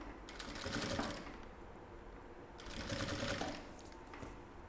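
Sewing machine stitching a plastic edge with bias binding, a fast whirring mechanical run in two close bursts separated by a brief pause, moderately quiet with no voices.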